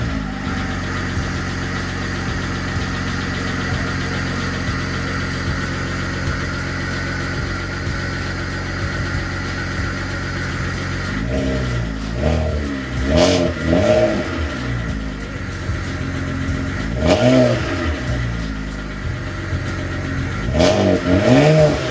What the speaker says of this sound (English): I'll give you guys an exhaust clip